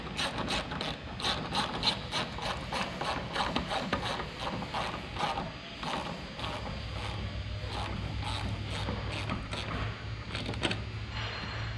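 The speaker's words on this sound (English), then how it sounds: "put it on officially and tighten that clamp down right here" Clamp being tightened on a car part during work on an EF and Integra, a quick series of rapid ratcheting clicks from a hand tool, close and moderately loud, with a low steady hum joining partway.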